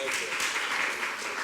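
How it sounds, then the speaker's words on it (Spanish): An audience applauds actors at a penitentiary mediation workshop, a dense steady clapping from a crowd lasting the whole moment, fairly even in loudness with no talk over it. "Un aplauso para ellos, por favor."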